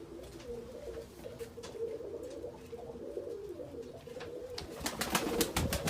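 Cooing of Bordo Bereli (maroon-beret) pigeons, Dutch-type tumbler play birds, in a loft: low continuous throaty coos murmur throughout, close, with several sharper wing or perch knocks toward the end.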